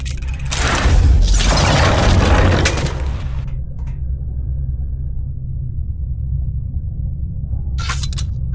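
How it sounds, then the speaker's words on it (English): In Verne: The Shape of Fantasy, bombs detonate with a loud, crashing roar and shattering rumble lasting roughly three seconds, then fade to a steady low drone broken by a short sharp crack near the end. "The explosions didn't affect the room."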